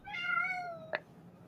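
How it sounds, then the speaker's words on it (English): A single loud, drawn-out cat meow up close, wavering and long, cut off by a brief sharp cry at the end. "he does sound he is meowing like he's dying"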